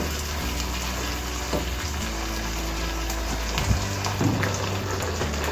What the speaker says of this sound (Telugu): ఇదంతా 1 నిమిషం పాటు మనం ఉడకనివ్వాలండి దీన్ని